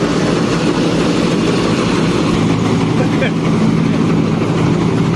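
A machine engine runs while a trolley is filled with straw on a farm during the straw season. It is a loud, continuous heavy droning hum with a steady mechanical rattle throughout.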